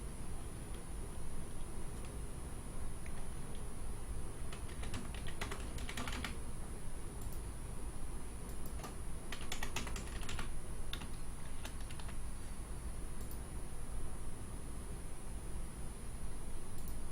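Keys clatter steadily as account details are typed on a computer keyboard, a continuous run of quick, close taps over a constant background hiss, with no talking.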